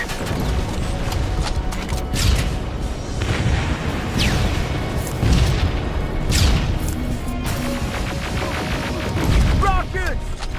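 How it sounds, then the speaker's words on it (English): Rockets and explosions in the Terminator: Resistance video game, a dense barrage of heavy booms, crashes and mechanical clatter running continuously, with shouting voices in the chaos. "Rockets! They're heading this way!"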